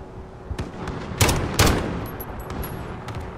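Dragon gun firing in Modern Warfare, a fast burst of muffled gunfire with two loud sharp blasts standing out amid rapid quieter shots, heard alone without talk.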